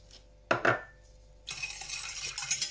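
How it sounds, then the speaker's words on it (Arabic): Spoon stirring milk and sugar in a saucepan, two clinking scrapes near the start followed by a steadier scraping swirl, close and fairly quiet with no talk. "نحركوا مليح المكون تاعنا"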